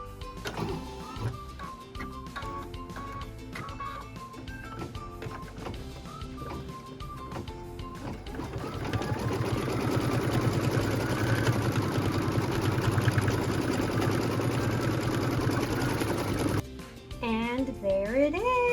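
An embroidery machine stitches a quilt block, first with rapid intermittent mechanical ticks and stepping tones, then a steady louder whirring drive, close by, under music or talk.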